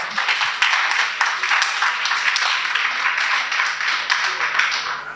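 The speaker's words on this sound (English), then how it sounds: "Let's give her another round of applause" Audience at a critical care nurses' annual general meeting and scientific conference applauding, a steady dense round of clapping in a hall lasting several seconds.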